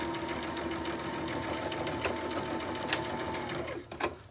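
Close-up sewing machine running steadily as it zigzag-stitches a fabric pocket through a thicker section, a rapid mechanical whir with light clicks before it stops near the end.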